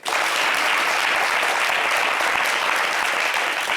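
A studio audience at a French-language talk show claps together in dense, loud, continuous applause that rises quickly and holds steady throughout.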